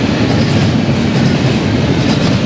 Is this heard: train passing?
yes